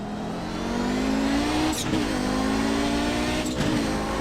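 Audi 90 GTO race car in the iRacing game at the Nurburgring, its engine droning steadily at high revs with two brief dips and rises as it shifts or lifts, loud and continuous with no talk.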